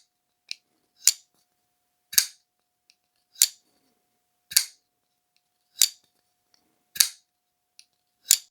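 A Remette Wild Species folding knife on caged ceramic ball bearings flips open again and again, about nine crisp, sharp snaps spaced roughly a second apart, close up and loud against silence.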